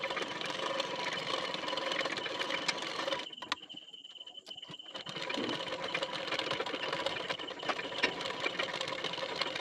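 A sewing machine stitches a folded fabric band for a waistband, running steadily and loudly, then pausing briefly with faint clicks before resuming its continuous whir.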